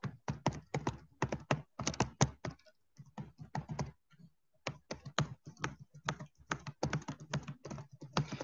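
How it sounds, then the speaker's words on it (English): Fingers type an Xbox redemption code on a computer keyboard in quick, uneven bursts of close clicking keystrokes, with one brief pause midway before the tapping resumes. "so I'm going to type that in here."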